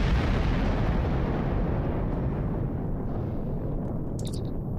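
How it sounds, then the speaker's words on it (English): A sci-fi starship, the Azura, blows apart in a single continuous, roaring explosion that rumbles loud and broad, slowly fading without a break and with no voices over it. "the Azura just exploded"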